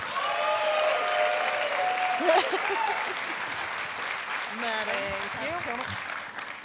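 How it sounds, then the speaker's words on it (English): Audience applause at an Ignite Denver talk event as presenters come on stage, steady clapping throughout with a brief voice and some whistle-like tones mixed in. "So, please, round of applause for the huge brains that are about to come out on stage, Jim and Louise Gunderson."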